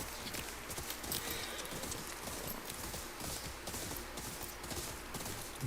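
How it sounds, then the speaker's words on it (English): A horse gallops in the video game Ghost of Yotei, with rapid, continuous hoofbeats at moderate distance over a soft background wash, with no speech heard. "And we're gonna call my horse in."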